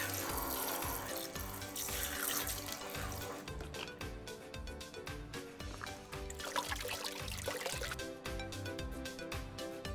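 Water running into a toy kitchen sink playset, a steady continuous trickle and splash heard close and moderately loud throughout, with faint clatter mixed in and no talking.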